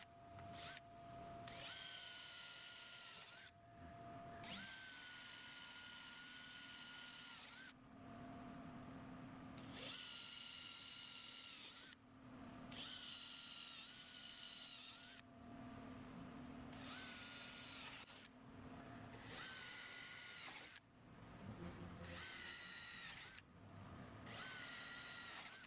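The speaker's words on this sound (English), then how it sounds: "Now match drill all the 3/16 inch countersunk holes with a 3/16 inch bit." A power drill with a 3/16 inch bit bores countersunk holes in a truck bed shell, close up, in repeated bursts of steady whining drilling separated by short pauses, with no voices.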